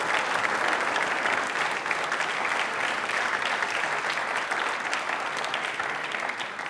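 A studio audience on a Rajasthani Independence Day quiz show applauds a contestant's correct answer, giving a steady, dense round of clapping that holds evenly throughout with no talk over it.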